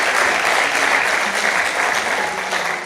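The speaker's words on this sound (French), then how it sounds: "Voilà, on peut l'applaudir bien fort, mesdames et messieurs." An audience applauds loudly and steadily at the draw ceremony for the 10th Dom Tom Cup 2022 football tournament, a dense wash of clapping that holds for the whole moment and fades slightly at the end.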